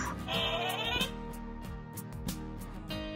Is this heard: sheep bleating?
yes